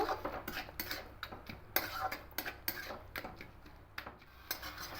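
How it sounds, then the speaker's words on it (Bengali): A spoon stirs cashews and raisins into a pot of watermelon rind chutney, with scraping and clinking of utensil against the pan in irregular close strokes. "এবার এখানে কাজু আর কিশমিশ কিছুটা দিয়ে দেব খুব ভালো করে মিশিয়ে নেব"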